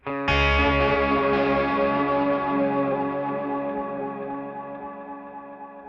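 A loud sustained chord rings out and slowly fades through a Strymon Volante tape echo with feedback, smeared by a dense, repeating echo that lingers under the decay.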